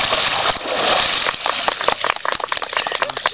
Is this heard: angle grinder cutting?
no